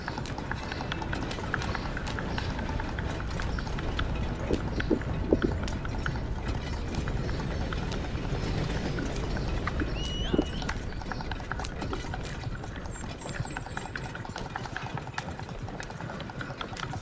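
Horse hooves clip-clopping in the video game Red Dead Redemption 2, a steady running gait under continuous dense game ambience and rattling mechanical noise.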